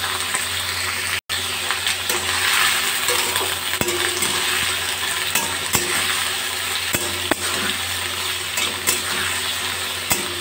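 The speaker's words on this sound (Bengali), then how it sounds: "গ্যাসের ফ্লেমটা বাড়িয়ে আমি ভালো করে পেঁপেগুলো ভেজে নেব।" Papaya pieces fry hard in a pan over a high gas flame, a loud, continuous sizzle with scraping stirs and occasional clinks running steadily throughout, with no talking.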